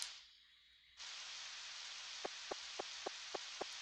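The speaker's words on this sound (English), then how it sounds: "Sure is raining a lot." Rain falls in the Harvest Moon 64 game as a steady hiss that starts abruptly after a brief quieter stretch, with a few evenly spaced soft ticks over it.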